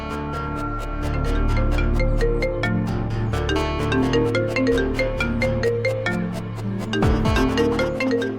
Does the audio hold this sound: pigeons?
no